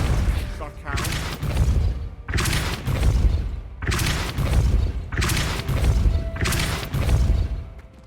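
Depulso spell impacts in Hogwarts Legacy land as a series of four heavy booming thuds, each followed by a rumbling crash and decaying debris, spaced about two seconds apart and loud up close.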